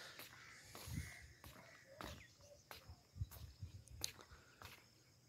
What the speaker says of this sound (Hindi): परिंदे जनाब चहचहा रहे हैं,